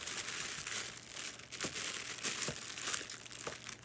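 Close crinkling and crumpling of plastic wrapping on a Jeffree Star Valentine's Day mystery box, continuous rustling with a few sharper crackles as the package is handled and pulled open.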